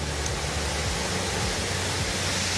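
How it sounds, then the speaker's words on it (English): A constant rushing roar of a waterfall in Laos, steady and full, with no other sounds standing out. "That nice waterfall sound."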